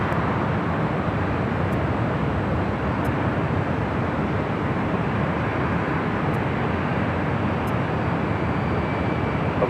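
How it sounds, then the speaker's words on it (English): An American Airlines jet takes off from runway 25 right at LAX, a steady, loud broadband jet roar that holds evenly throughout without letting up. "American Airlines taking off 25 right on the south side"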